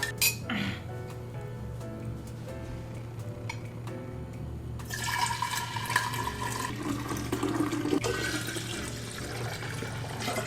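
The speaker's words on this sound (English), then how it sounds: "I'm gonna rinse them all off and dry them" Food is rinsed under running tap water in a home kitchen, a steady broadband rush of water that grows louder and fuller about halfway through, with light clinks of dishes and no talking.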